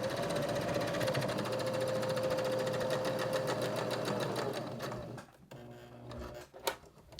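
Sewing machine chain piecing fabric for a Sharpie tie-dyed foldable tote bag, running in a steady, loud, continuous whir for about five seconds before stopping, followed by faint handling clicks.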